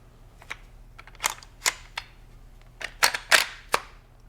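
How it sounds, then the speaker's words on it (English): Benelli M2 semi-auto shotgun barrel and forend being slid over the magazine tube, a handful of sharp metallic clacks and scrapes, close and distinct, spaced irregularly against a quiet background. "Slide the barrel and the forend over the magazine tube."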